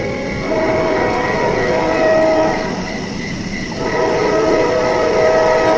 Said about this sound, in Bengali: দাঁড়িয়ে থাকতে থাকতে আমরা ট্রেনের হর্ন শুনতে পাই, তার মানে ট্রেন আসছে।